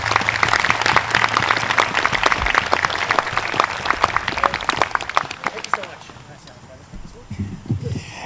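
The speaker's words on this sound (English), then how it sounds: "I hope you will join me in giving them a big round of applause to welcome them" Applause from an audience welcoming an orchestra at an outdoor evening concert, a dense steady clatter of many clapping hands that fades out near the end, followed by a brief voice.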